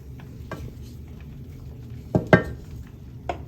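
Pork adobo in dark soy sauce is stirred in a pot outdoors, a few soft scrapes and clinks of the utensil against the pot over a low background hum, with a sharper double knock in the middle.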